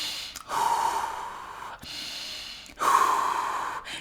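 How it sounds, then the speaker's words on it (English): Slow, deep breathing, close and intimate: long, airy inhales and exhales separated by short pauses, in a quiet room. "Deep breathing."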